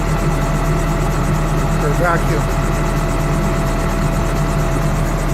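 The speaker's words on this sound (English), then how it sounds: "we'll start the engine" Engine idling steadily after a fuel system upgrade, a loud continuous low rumble with a constant drone throughout, while someone speaks briefly over it.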